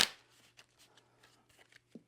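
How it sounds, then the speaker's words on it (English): A deck of playing cards is shuffled during a two-player cribbage game, a sharp riffle burst at the start followed by soft scattered card flicks and taps, quiet and close. "Okay, that's a great shuffle."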